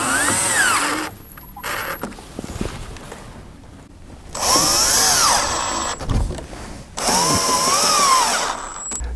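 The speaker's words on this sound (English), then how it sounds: "let's use our screws and get that screwed in place" A power drill drives screws into a U channel for plantation shutters, with three loud bursts of rising, whining spins separated by quieter pauses and faint handling clicks.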